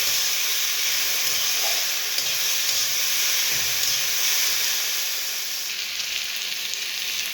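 Potatoes frying with browned onions in a pan, a continuous close, even sizzle and hiss that holds steady without pause, with faint occasional stirring.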